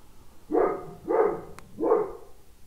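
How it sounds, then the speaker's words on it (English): Dogs bark three times at an even pace, each bark a moderately loud, fairly close woof in an otherwise quiet room. "My dogs are barking."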